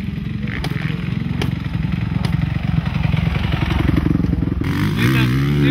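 A motorcycle ridden during a learner's riding lesson, its engine droning steadily and loud up close with a clattering, pulsing rhythm, the pitch shifting near the end as the throttle changes.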